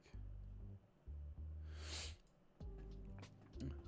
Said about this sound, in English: I'm gonna apologize up front for my sniffling